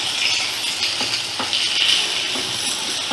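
Sliced onions fry over a medium flame in a pan, giving a continuous loud sizzle with a few soft stirring scrapes and nothing else over it.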